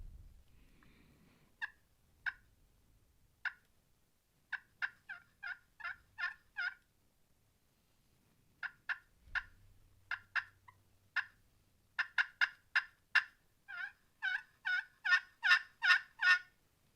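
A man works a turkey call to imitate a gobbler, sending out sharp, clucking, rattling notes in scattered bursts that speed up into a loud, rapid gobbling run near the end. A low hum underlies part of it, and no one speaks.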